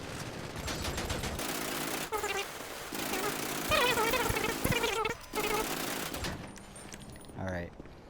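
Rapid bursts of SMG fire in GTA 5, loud and close, come in long strings of shots separated by short gaps, with busy in-game noise running underneath.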